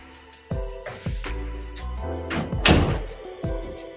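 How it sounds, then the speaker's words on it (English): A bathroom door swings shut with a solid thud, followed by a few smaller knocks and rattles as it settles against the frame in an echoing room, close by and fairly loud. "Let me close this bathroom door."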